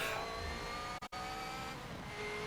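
Race car engine roaring steadily in a Le Mans racing video game, loud and continuous near the Arnage and Porsche Kurves section, with a brief sharp cutout about halfway through before the engine note resumes.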